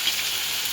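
Tomatoes dropped into very hot oil in a home kitchen pan, giving a steady, loud, hissing sizzle throughout a brief moment with no talk.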